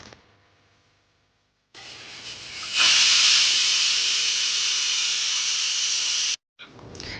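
A pressure cooker hisses loudly as it vents steam while greens cook for a stir-fry. A quiet gap comes first, then a steady, strong hiss that holds for several seconds, breaks off abruptly, and briefly starts again.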